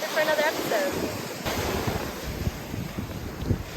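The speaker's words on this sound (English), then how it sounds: "I decided to stick with the ocean waves sound in the background" Ocean surf breaking on a Miami beach, a constant close wash of waves blended with strong wind buffeting the microphone, and a few brief high chirps near the start.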